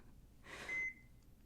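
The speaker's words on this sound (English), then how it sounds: "they thought it would help to slow the beeping down" A single electronic beep used as a sound effect in a narrated horror story, one short tone standing out from a quiet background with no talking.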